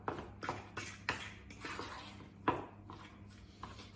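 Diced ingredients mixed into guacamole in a bowl, heard as soft repeated scraping and light knocks of a utensil against the bowl, close and moderately quiet, with no talking.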